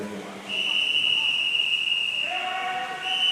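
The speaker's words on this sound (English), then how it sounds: "Whistle telling us it's just 2 lengths to go for Sam Farley." A sustained, piercing whistle at a county championship swimming meet signals two lengths left in a 1500 m race, holding steady for about two seconds before shifting pitch, with a commentator talking underneath.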